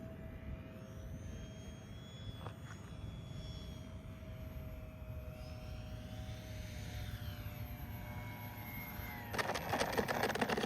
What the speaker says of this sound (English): I'm going to come by and do a low pass for a landing to watch how well the reinforcements are.